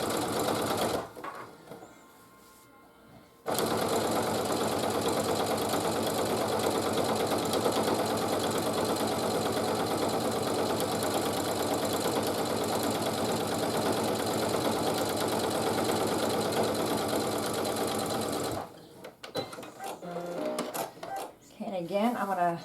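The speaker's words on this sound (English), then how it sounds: "just sew that piece on" A sewing machine runs steadily for about fifteen seconds, joining a piece onto a quilt-as-you-go table runner with a dense, even hum and patter up close. Brief quieter moments at the start and end may carry voices.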